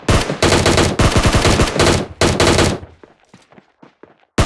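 A Vector submachine gun in PUBG fires in several loud, rapid full-auto bursts, then fades into faint, sparse distant shots.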